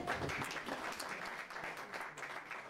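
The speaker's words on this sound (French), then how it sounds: "Est-ce que nous pouvons d'abord acclamer pour les oratrices du jour?" An audience at a speaking event applauds the day's speakers, a dense, steady wash of clapping from many hands that holds at an even level throughout.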